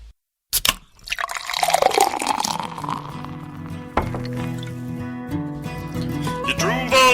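Beer pours into a tall glass in a long, steady liquid rush with rising fill tones and a few knocks. The pour is close and loud, and no one speaks.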